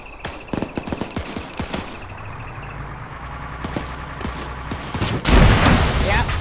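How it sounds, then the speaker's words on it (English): Gunfire in an Arma 3 PvP battle: scattered sharp shots crackle through the first seconds, then a heavy blast erupts near the end as a rebel vehicle is destroyed, with faint voices underneath. "CIA just blew up a Rebel Vic"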